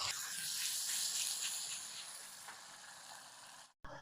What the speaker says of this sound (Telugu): ఎండుమిరపకాయల పేస్ట్ వేసుకుని వేయించుకోవాలి కొంచెం